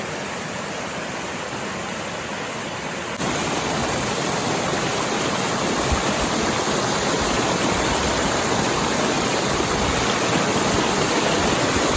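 Water gushes from a spring at a rock in a forested lakes area, a loud, steady broadband rush that grows a little stronger partway through and never lets up.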